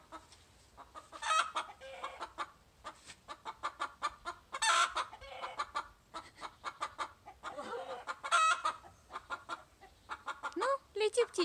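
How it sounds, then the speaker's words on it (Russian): A chicken clucks repeatedly in quick, uneven bursts, fairly close, with short pauses between the runs of clucks. "Давай заснимем полет курицы"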